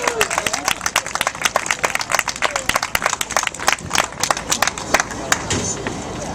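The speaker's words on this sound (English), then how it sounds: "How about a big round of applause, ladies and gentlemen" A crowd at a Veggie Pride Parade in New York applauds for speaker Lee Hall, dense clapping ringing out steadily and loudly, with cheering and hubbub mixed in throughout.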